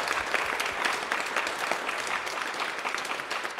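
Sustained audience applause fills a room at the British Independent Film Awards ceremony, steady dense clapping from a large crowd with no pauses throughout.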